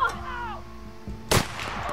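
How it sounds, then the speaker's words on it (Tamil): Gunshots to the head in The Outer Worlds: a softer thump followed by one sharp, loud crack, with game ambience ringing between them. "ரெண்டே ரெண்டு புல்லட் ஹெட் ஷாட் கரெக்டாக அடிக்கணும்."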